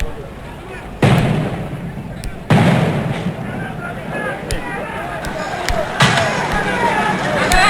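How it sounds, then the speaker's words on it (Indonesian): Loud firecracker bangs and pops, set off by protesters at Polda Metro Jaya police headquarters in Jakarta, burst out repeatedly over a constant roaring crowd din, with several sharp cracks spaced a few seconds apart. "suara petasan yang dinyalakan oleh"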